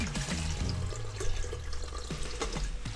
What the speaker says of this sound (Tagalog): And maglagay tayo ng tubig.